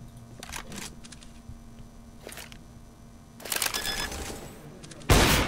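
Scattered sharp gunshots crack in a CS:GO match, a few isolated shots, then a burst of rapid fire and one loud final blast.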